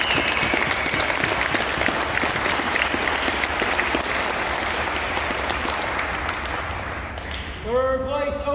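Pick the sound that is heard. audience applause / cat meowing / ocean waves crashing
audience applause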